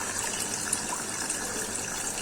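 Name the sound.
water flowing in a homemade fountain onto a lotus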